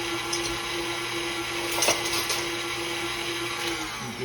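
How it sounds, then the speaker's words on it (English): Stand mixer running steadily with a dough hook kneading a small batch of butter yeast dinner roll dough, a continuous whirring motor hum with faint knocks as the dough turns, no talking. "let this dough hook do its thing"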